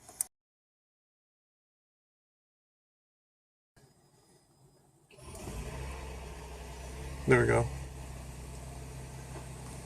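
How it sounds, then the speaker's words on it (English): A Toyota Highlander Hybrid's 3MZ V6 engine starts up after a quiet pause and settles into a steady, fairly loud idle, with a brief voice speaking just before it fires. "Just put my foot on the accelerator and the engine went on."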